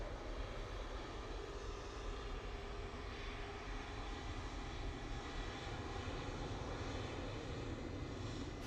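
An airliner's engines roar steadily as it departs Manchester Airport, a broad sustained rumble heard from a distance without any talk.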